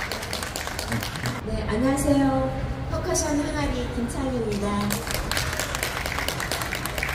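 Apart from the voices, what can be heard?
audience applause for percussion team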